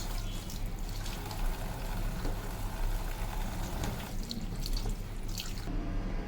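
Eggs rinsed under a running kitchen tap: a steady, close stream of water splashing into a sink with faint dripping, soft and continuous, no voices.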